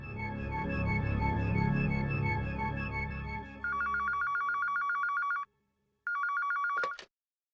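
A telephone rings after a call is placed: a close, loud electronic ringing in repeated bursts, with a brief pause between them and a click at the end.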